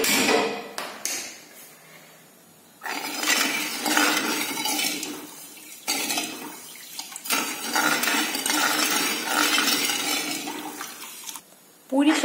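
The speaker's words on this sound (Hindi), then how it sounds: "इस तरह से हम चला करके शक्कर को पूरी अच्छी तरह से गला लेंगे" A spoon stirs sugar into water in a glass vessel, making a sweet syrup for tutti frutti from watermelon rind. Continuous swishing and scraping come in long bursts separated by short pauses, with faint clinks against the glass.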